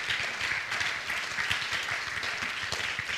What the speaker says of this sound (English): Clap your hands unto the Lord.